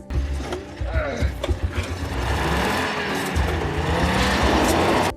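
A car in the film The Rover (2014) with its tires stuck after a crash, the engine revving hard in loud surging bursts with mechanical rattling and some tire squeal.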